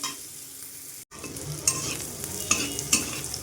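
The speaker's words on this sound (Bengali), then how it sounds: "ভালো করে আমি ভাজা ভাজা করে নেব।" Crushed garlic and onion fry in a pan for a Bengali hilsa-head and Malabar spinach curry, a steady close sizzle with a few sharp stirring scrapes and a brief gap of silence near the start.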